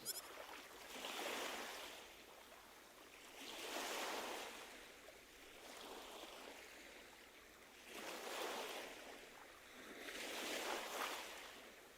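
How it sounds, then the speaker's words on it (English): Ocean waves roll in and recede in a video game, each swell rising to a broad hiss and fading in a slow, steady rhythm of about four surges, soft and alone with no voices. "Waves?"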